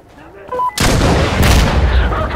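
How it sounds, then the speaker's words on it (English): Rocket barrage explosions in the game Insurgency Sandstorm: after a short quiet lead-in, a loud sustained roar of blasts and rumbling booms erupts and continues, with a second surge of impacts shortly after, close and dense. "I think we need a rocket strike there! Output coming! We need a rocket barrage right here!"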